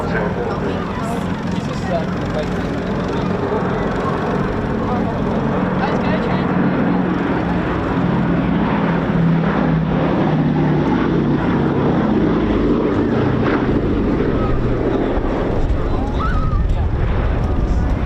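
A propeller aircraft flies at an air show, its deep droning engines loud and sustained throughout, with a commentator talking over the constant roar.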